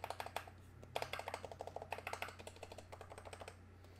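Rapid keystrokes on a Minivan keyboard with PBT keycaps in an acrylic case, a close, crisp clacking run with short pauses between bursts over a faint steady hum.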